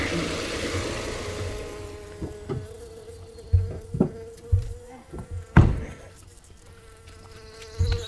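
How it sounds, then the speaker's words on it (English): A steady buzz from a swarm of about 30 bees drifts through the air outdoors in Latvia, with intermittent thumps and faint rustling nearby over a low background drone. "I'm getting attacked by bees out here. There's a swarm of like 30 bees."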